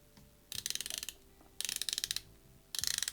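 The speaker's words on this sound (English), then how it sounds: "The action, you got a 120 click unidirectional." A 120-click unidirectional bezel on an RZE Aspirare watch is turned in three separate runs. Each run is a quick series of crisp, close ratcheting clicks with brief quiet pauses between them.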